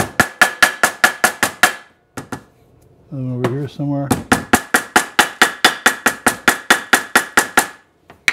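Ball peen hammer striking metal on a tank for a Maytag upright engine, a rapid, even series of loud, ringing taps, pausing briefly while someone speaks, then resuming at the same brisk pace.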